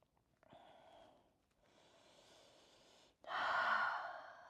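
Slow, deep breaths taken during a rest in a yoga balance flow: a soft inhale, then a longer exhale, and finally a louder, fuller breath out, close and alone.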